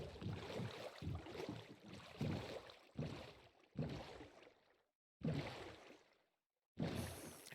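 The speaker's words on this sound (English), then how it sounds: "I could hear the boat there for a second." Minecraft boat moving over water: repeated whooshing, splashy bursts in rhythmic strokes, fairly close, with short silent gaps between surges and no talk.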